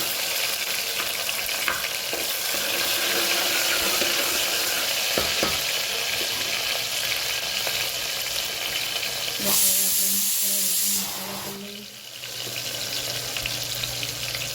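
Tomatoes, potatoes and peas fry in a pan with mustard seeds and cumin, giving a steady close sizzle with occasional stirring clatter and a brief louder hiss near the end.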